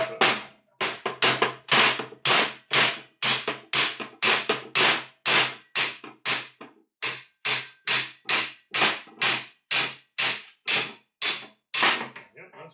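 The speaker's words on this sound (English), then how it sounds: "We'll give it a few taps first, see if we get anywhere." Light hammer taps knock rust off a sawmill saw guide, a long, fairly even series of sharp metallic knocks, roughly two per second, close and clear with no talking.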